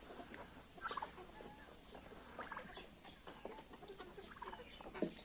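Turkeys and chickens in a Ukrainian farmyard in the morning, soft scattered clucks and short calls at low volume, some birds close and others farther off, with no talking.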